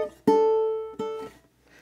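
A ukulele plays the opening bar of Danse Macabre: a few plucked notes, one long ringing tone held with a slow decay, then another attack that fades out, close and clear with no talking.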